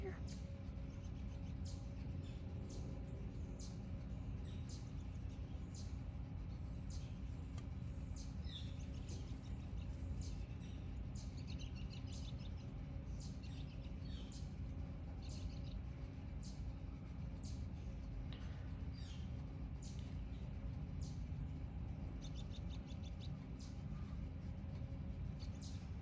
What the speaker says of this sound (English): I don't know if you guys can hear all the birds, but I am enjoying them this morning